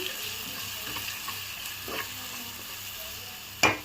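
Steady close frying sizzle as spices are stirred into egg biryani masala in a pan, with soft scraping strokes from the spoon and a sharp clank near the end.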